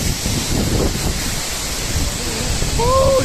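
Strong wind blows near Kakochang Waterfall, close to Bokakhat in Karbi Anglong, where spray and mist fill the air. It makes a loud, constant roaring rush that buffets the microphone, with a faint voice near the end.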